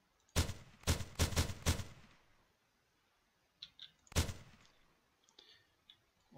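Weapon firing effect in a Unity survival game: a rapid run of four or five sharp shots, a pause, then one more shot followed by faint clicks against near silence.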